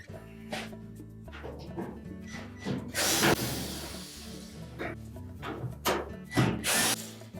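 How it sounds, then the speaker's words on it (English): A power driver whirs in bursts while screws are backed out of the front panel of a Samsung dryer during a duct heater repair, with metallic clicks and handling noise between the runs, close and moderately loud. "Then we'll remove the screws that secure the top of that front panel to the support piece."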